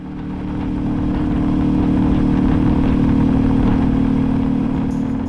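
A Royal Enfield Meteor 350 motorcycle fitted with a DNA air filter idles at close range, a loud, steady engine rumble that holds even throughout with no voices.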